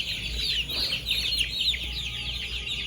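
Frightened young chicks in a layer poultry shed cluck, cheep and flap in a steady, dense chorus, with agitated chirping and wing flutters filling the whole stretch at close range.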